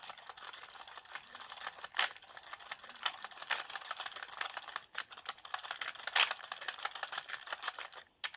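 An LK150 circular knitting machine working up an I-cord, a dense, fast mechanical clicking and rattling, fairly faint and close, with a few louder clacks standing out.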